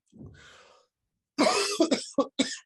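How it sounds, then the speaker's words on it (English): A brief breathy throat sound, a pause, then a burst of several harsh coughs in quick succession, close and fairly loud. "sorry folks, I'm just coughing to death."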